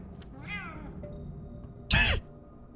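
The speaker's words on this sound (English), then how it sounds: "There's that fucking cat again." A cat meows in the video game Pathologic 2: a soft mewing call, a short pause, then a loud, sharp meow close by against a low ambient hum.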